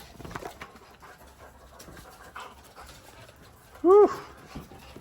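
Dogs panting on a hot day, a soft, rapid breathy rhythm close by, with a brief higher whine or yelp near the end.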